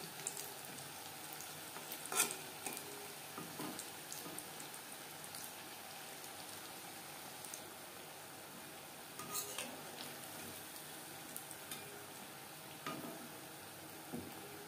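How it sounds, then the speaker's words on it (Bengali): Soft moong dal puli dumplings frying in oil, a faint, even sizzle with occasional light clinks and scrapes of a utensil turning them. "আলতো হাতে একটা সাইড ভাজা হয়ে যাওয়ার পরে উল্টে দিতে হবে"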